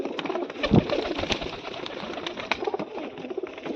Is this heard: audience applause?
no